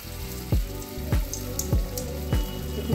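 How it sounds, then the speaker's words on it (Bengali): Fig fritters frying in hot oil in a wok, a constant crackling sizzle with a few louder bursts as pieces are dropped in. "দেখুন এরকম করে আমি পিস করে বড়াগুলো দিয়ে দিচ্ছি।"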